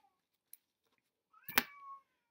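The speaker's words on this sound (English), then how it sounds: "If you can hear that, I got my cat in the background." A domestic cat meows once in the background of a quiet indoor room. The single drawn-out call is fairly faint and distant, preceded by a couple of tiny clicks.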